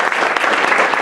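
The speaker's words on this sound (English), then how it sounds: "please give a good round of applause for our speaker today" An audience at a civic meeting applauds a speaker with a loud, dense burst of clapping that runs evenly through the whole short moment, with no voices over it.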